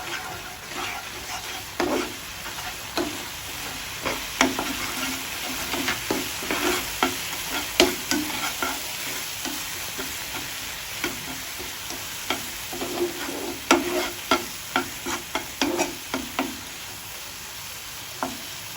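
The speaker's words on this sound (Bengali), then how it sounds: "এইবারে সমস্ত মশলাগুলো ভেজে নিতে হবে।" Spices fry in hot oil in a pan for doi begun, a Bengali yogurt eggplant dish, with a continuous sizzle under repeated scraping stirs of a spatula, close and without speech.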